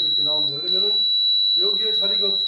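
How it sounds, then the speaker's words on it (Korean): A KS international-standard fire alarm system buzzer sounds as a steady high electronic tone running through the whole stretch, with someone talking over it. "그러면 똑같이 부저음이 울리면서 여기도 경보가"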